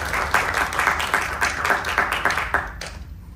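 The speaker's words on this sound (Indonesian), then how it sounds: "Mari kita beri tepuk tangan yang meriah" Audience at an Indonesian public speaking and presentation event giving a round of applause: a steady wash of many hands clapping that fades out at the end, with no speech over it.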